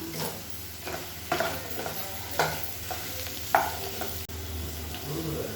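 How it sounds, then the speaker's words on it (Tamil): Potatoes roasting in hot oil in a pan, sizzling steadily while a spoon stirs and scrapes them in irregular knocks, close and moderately loud. "இப்போ பாருங்கள், உருளைக்கிழங்கு வந்து நல்லா ரோஸ்ட் ஆகிடுச்சு"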